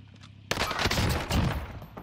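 Gunfire in Warzone erupts suddenly after a brief quiet moment, a loud rapid burst of shots followed by a second burst, close and dominant.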